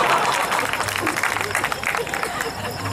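Crowd clapping at an outdoor Hindi kavi sammelan poetry gathering in Suhela, a dense patter of many hands heard under someone speaking over a loudspeaker.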